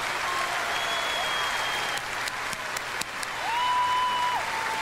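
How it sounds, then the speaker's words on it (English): Concert audience applauding at a performance, steady dense clapping heard from a distance with faint tonal sounds and a few sharp clicks over the top. "Аплодисменты."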